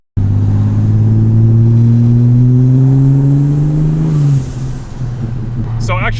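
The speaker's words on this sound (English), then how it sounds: "Sounds like a supercharger whine" Loud supercharged car engine with a 3.5-inch exhaust, droning and rising steadily under load for about four seconds before the note drops back to a rougher idle-like rumble; a brief voice cuts in near the end.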